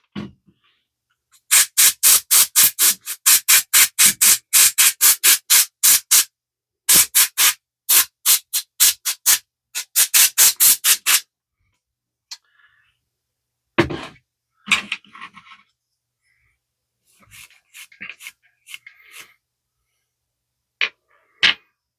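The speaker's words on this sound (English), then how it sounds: "let me go ahead and get the rust off of here" Rust being scrubbed off a Vibroplex telegraph key: bursts of rapid, rhythmic rasping strokes, loud and close, in several runs, then sparse scrapes and small handling noises toward the end.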